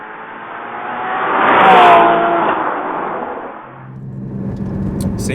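Porsche GT4 engine accelerating hard, a loud rising rev that builds to a peak near the middle, eases off, then settles into a steadier lower drone toward the end.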